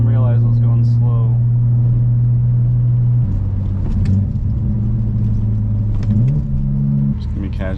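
A BMW E46 drives along, recorded on a GoPro Hero 9 inside the cabin, with a steady low engine drone whose pitch shifts with gear and speed beneath someone talking throughout.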